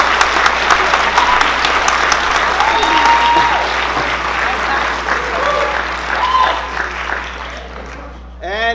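An audience at an awards ceremony breaks into sustained, dense applause that fills the room, with voices and a few whoops mixed in before it tapers off.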